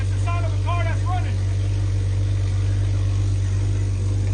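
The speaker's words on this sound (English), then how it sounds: "Rev it up a little bit. You hear that?" A BMW 340ix engine runs with a deep, steady, loud drone that holds even throughout, with a few brief higher tones near the start.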